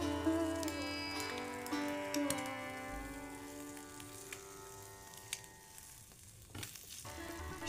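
An egg bun toasts in white oil in a frying pan, giving a steady close sizzle and crackle that runs throughout, with a few light scrapes and knocks.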